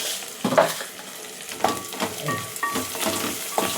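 Gentle sizzling of black gram and split chickpea lentils frying in hot oil for tempering, broken by scraping stirs and light metallic clinks of a spoon against a pan.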